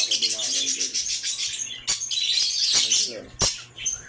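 Pet birds chirp at feeding time, with dense, bright, rapid tweeting close by and a few sharp louder calls, while a person talks quietly underneath.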